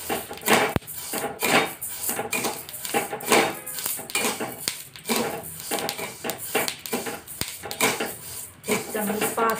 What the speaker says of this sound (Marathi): तर आता आपण जवस भाजून घेऊया।